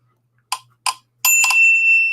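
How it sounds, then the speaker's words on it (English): Bell of an ESP color-guessing machine: two short separate dings, then a quick double strike that rings on with a long sustained metallic tone, close and clear with no talk. "you have to use your ESP to guess which color the machine is going to ring the bell."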